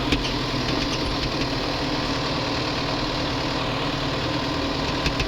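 A New Holland TD85D tractor engine with 9,800 hours idles steadily close by, a constant low rumbling drone with vibration and no talking.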